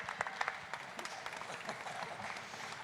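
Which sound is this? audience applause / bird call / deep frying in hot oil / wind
audience applause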